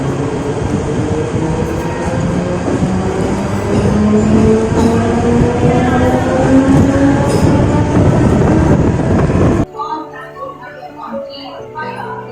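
Train ride heard from an open doorway while stopping near a station: steady loud rumble and rolling wheel noise with faint squealing tones, then cutting off abruptly into quieter ambience near the end, with people talking in the background.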